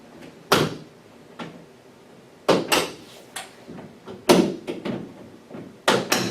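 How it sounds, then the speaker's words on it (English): The door of a reconfigurable desktop simulator station is shut with a series of sharp knocks and bangs spread over several seconds, close and loud, with faint rattles in between. "Close the door."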